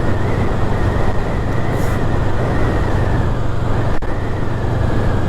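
A 2023 Honda Rebel 500 motorcycle out on a ride, its engine humming steadily under loud, constant wind and road rush with no break.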